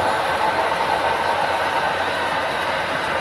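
A model train runs along its layout track, a steady, continuous rolling rumble and hiss at close range, with no distinct horn or talk.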